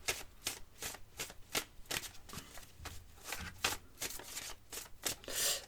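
Petit Lenormand oracle cards being shuffled by hand, a quiet close series of crisp riffling snaps repeating in an irregular rhythm with no voices.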